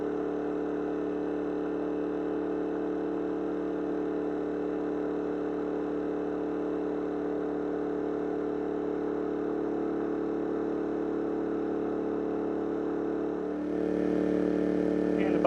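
Champion 4000 and Wen 3600 dual fuel generators run at a steady loud drone with a constant hum, then the engine note shifts and rises slightly near the end as the load changes.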